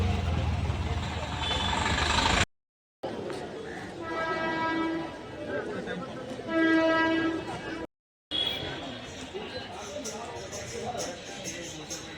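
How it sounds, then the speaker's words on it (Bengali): A train passes with a rumbling roar and sounds two sustained horn blasts in a row, fairly loud, with brief silent cuts before and after. "Two train will be passing."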